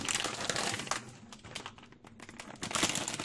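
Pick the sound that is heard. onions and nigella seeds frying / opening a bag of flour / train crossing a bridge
opening a bag of flour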